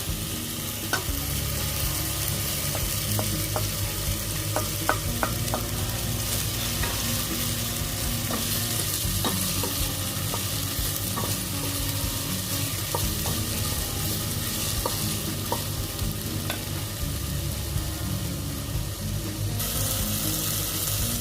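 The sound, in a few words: sautéing tomato and garlic in a pan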